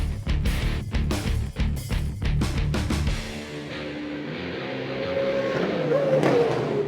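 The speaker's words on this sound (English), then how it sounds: "That beautiful sound of V8 engines is coming to Austin, Texas" Australian V8 Supercars racing engines roar loudly in dense, overlapping bursts for about three seconds, then a single engine note holds and climbs steadily toward the end.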